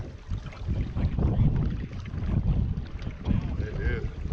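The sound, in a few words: boat cruising fast through a marsh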